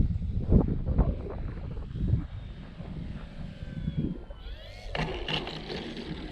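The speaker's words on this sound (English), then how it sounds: "Wind is coming up." Gusty wind buffets the microphone outdoors at a field where a Bighorn OMP model airplane is flying. It rumbles low and unevenly throughout, with a faint higher whine rising near the end.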